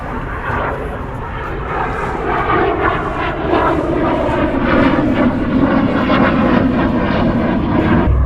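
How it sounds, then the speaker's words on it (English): An F-16 fighter jet flies overhead, a loud continuous roar that swells and builds steadily over the whole stretch, with no talking. "Had to pause for the F-16 flying overhead"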